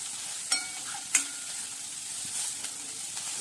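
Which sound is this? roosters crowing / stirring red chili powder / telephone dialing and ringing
stirring red chili powder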